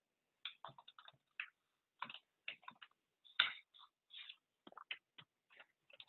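Fingers type on a computer keyboard while filling in profile details, with quick irregular bursts of key clicks separated by short pauses, close and fairly quiet, with no voices.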